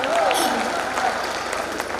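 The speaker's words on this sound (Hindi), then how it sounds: "एक बार तालियां बजाओ।" An audience claps steadily through a Hindi comic poetry gathering at the Tapti Mahotsav festival, a dense, even wash of applause with a brief whistle-like tone near the start.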